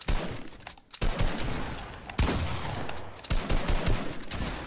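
Gunfire in the Fortnite video game: bursts of rapid shots in several clusters with brief gaps between them, loud and close, with no talk over it.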